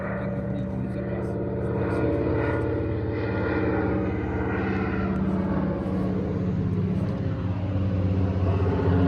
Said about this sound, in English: Американский фантом летит бросать бомбу на южный Вьетнам.